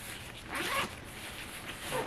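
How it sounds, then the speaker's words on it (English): Zipper on the zip pocket of a backpack being pulled, a quick close rasping slide, with a second fainter zip stroke near the end. "And then behind there, there's another pocket, a zip pocket."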